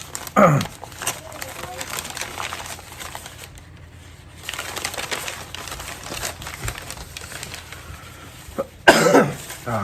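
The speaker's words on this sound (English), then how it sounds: "I'm still coughing." A couple of sharp coughs break out near the start and again near the end, with murmured talking and shuffling in between.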